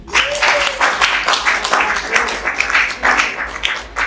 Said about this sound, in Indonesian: Tepuk tangan untuk bisnis kita.